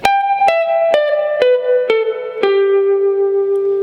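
A guitar plays a descending run from the most common pentatonic scale shape, six clean, evenly spaced notes each stepping lower, the last one left ringing; loud and close with no voices.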